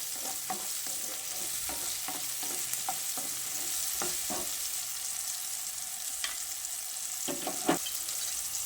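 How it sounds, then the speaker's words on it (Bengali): Tomato and capsicum fry in a pan for a vegetarian soybean dish, a constant sizzle broken by frequent short scrapes and clicks of stirring, close and moderately loud. "টমেটোটা দিয়ে ক্যাপসিকামের সঙ্গে আরও কিছুক্ষণ এভাবে ভেজে নেব।"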